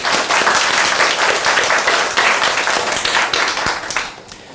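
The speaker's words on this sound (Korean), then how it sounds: "우리 다 함께 뜨거운 박수로 한번 영광을 돌리도록 하겠습니다" A church congregation at an Easter Sunday morning service breaks into warm, sustained applause, dense and steady throughout before tapering off at the end.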